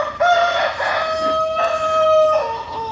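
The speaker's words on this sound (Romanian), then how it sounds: "cocoș matur." A mature Indian Game rooster at a poultry breeder's yard crows one long, loud, close cock-a-doodle-doo, the call rising and then drawn out clearly.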